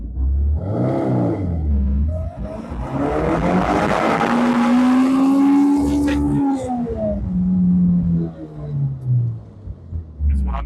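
A Honda S2000 sports car engine revs hard through first gear toward a 9,000 RPM redline, its pitch climbing in a long rising wail before easing off, loud and close from inside the car.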